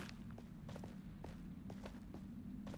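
Footsteps of a Minecraft character in a multiworld randomizer run, a handful of soft irregular steps above a steady low game hum, fairly faint and without speech.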